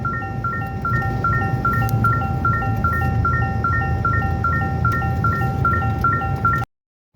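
Repeated warning chime from a 2024 Toyota Tacoma truck, a steady train of evenly spaced electronic beeps over a low engine or cabin hum, loud and close, cutting off abruptly near the end.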